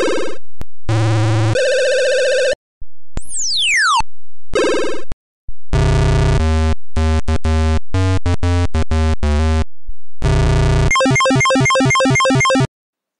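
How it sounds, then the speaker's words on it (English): Retro Macintosh game sound effects from Mind Over Mac, a run of synthetic beeps, descending sweeps, buzzy tones and warbling chirps in quick bursts separated by short gaps, loud and alone. "all the games have their own little sound effects"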